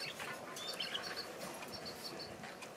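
Young budgerigars, about three months old, chirp in a cage, giving faint, high, scattered tweets against quiet room noise.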